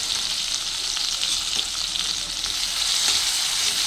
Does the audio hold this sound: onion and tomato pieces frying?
yes